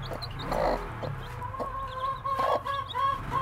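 A new mother hen clucks softly and repeatedly beside her newly hatched baby chicks, whose faint high peeps sound between the clucks, all close by.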